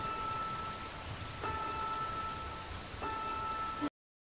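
Steady rain falls as an even hiss, moderately quiet and continuous, with faint tonal hum behind it and no voices, before cutting off abruptly.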